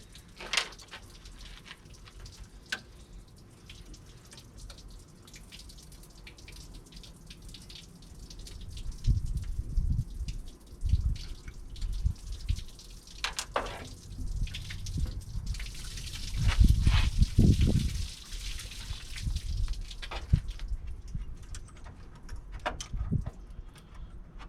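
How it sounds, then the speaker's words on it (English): Warm coolant water drains from a Chevrolet engine's water pump during an LS-swap repair, a faint steady trickle and dripping that swells into louder splashing and gushing midway, with no talk over it. "We'll have some warm water coming out of this."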